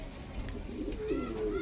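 Madrasi pigeons coo softly in a low, rolling burble that rises near the end, faint against a steady background hiss.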